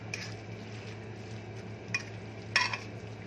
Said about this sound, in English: And then I'm just going to stir it in